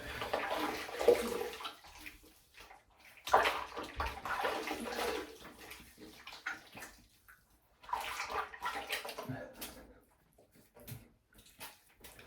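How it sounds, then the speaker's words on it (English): Tap water runs in bursts as a straight razor is rinsed during a honing and shaving session, the splashing stream starting and stopping several times at close range with quieter gaps between. "I'll rinse and let you see the difference"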